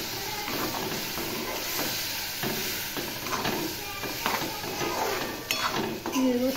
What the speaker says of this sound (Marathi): मिक्सर धुवून घ्यायचं